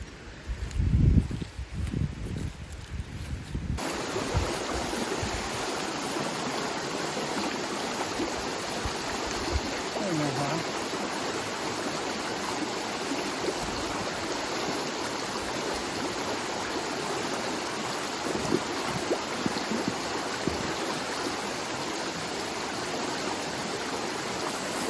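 Spring water runs in a small creek in a yard, a loud, steady broadband rush of flowing water that continues unbroken after a few seconds of handling noise at the start, with no talking.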